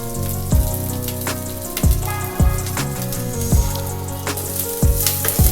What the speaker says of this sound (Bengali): কড়াই গরম হলে তাতে 2 চামচ মতো দিতে হবে সাদা তেল, পেঁয়াজটাকে হালকাভাবে ভেজে নেওয়ার জন্য